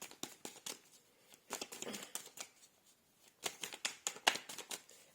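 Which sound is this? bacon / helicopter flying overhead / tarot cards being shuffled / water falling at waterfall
tarot cards being shuffled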